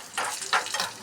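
Cashews and raisins fry in hot ghee, giving a short burst of soft, steady sizzling close by with a couple of stirring swells and no voices.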